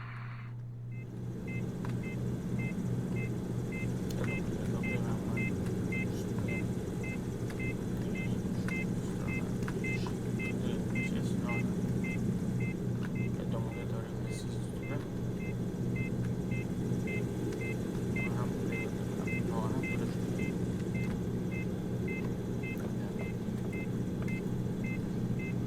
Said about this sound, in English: We'll wait about 60 seconds until the engine warms up and the oil temperature reaches 80 degrees Celsius